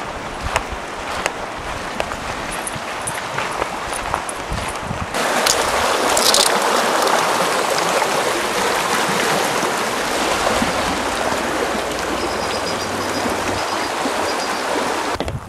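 Waterfall beside a hiking trail, a steady broad rushing of water heard close and continuous, growing louder and fuller midway through.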